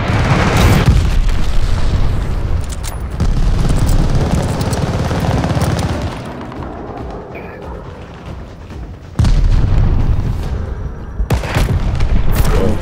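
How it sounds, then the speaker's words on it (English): A glide bomb explodes in the Call of Duty: Vanguard video game, a loud booming blast amid dense gunfire that fades into a quieter rumble, then a second heavy burst of explosions and shooting near the end. "Enemy glide bomb coming in hot!"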